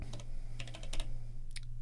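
Rapid clicks of fingers typing on a computer keyboard, irregular bursts of close, crisp keystrokes over a low steady hum, with no voices.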